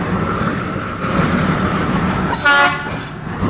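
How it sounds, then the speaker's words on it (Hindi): A train backs along a railway track near a stadium in Dibrugarh, a steady loud rumble of wagons with a brief horn toot partway through, and almost no talk. "देखिए ट्रेन बैक जा रहा है"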